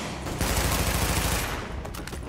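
Gunfire in the video game The Division, a dense rattling volley of rapid shots swelling loud then easing off over a couple of seconds, no speech over it.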